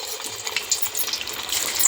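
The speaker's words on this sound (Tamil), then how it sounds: "இப்போ நம்ம கோலா உருண்டைகளை ஆயிலில் சேர்த்திக்கலாம்." Banana flower kola balls are added to hot oil, and a soft, steady hiss and bubbling of frying runs throughout at a moderate, close level.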